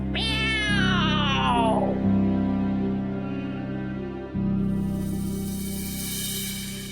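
A cat meows loudly and up close, one long drawn-out wailing meow that slides downward, followed by a steady low hum with no talk.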